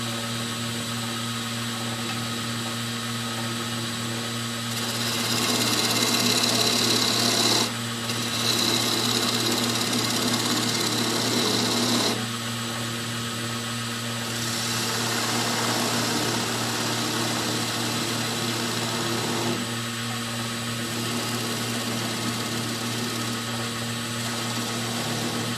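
A wood lathe spins a hollow form steadily with a constant motor hum while a spindle gouge cuts in, adding a couple of louder hissing, scraping passes close by.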